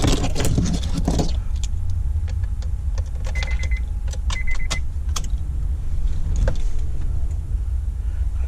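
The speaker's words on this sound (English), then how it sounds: "let's prime our fuel pump, make sure everything is golden." Kemso 340 fuel pump priming inside an Acura RSX, a steady low electric whir under a busy mix of clicks and small clunks, with a brief rustle at the start and a few sharp ticks near the middle.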